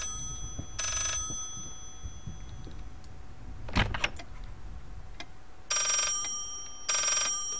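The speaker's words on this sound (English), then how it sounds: "Oh, the phone is ringing." A telephone rings in the horror video game Layers of Fear, sounding in three separate bursts, each about a second long, against a quiet, eerie background with a brief clatter in between.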